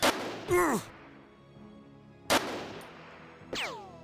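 Gunfire in Jagged Alliance 2, sharp separate shots with short ringing decays, four bursts spread unevenly over a few seconds against a quiet background.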